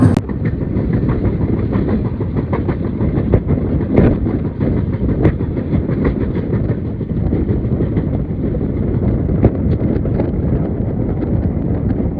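A passenger train rolls along the rails toward Tatanagar, a loud continuous rumble with rhythmic clickety-clack wheel beats and wind buffeting, steady for the whole stretch.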